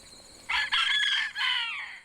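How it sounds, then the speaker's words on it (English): A rooster in a garden flock crowing once, loud and near, a drawn-out cock-a-doodle-doo in several stretched syllables over quiet background. "I may not want to wake up to that rooster at 4 o'clock in the morning"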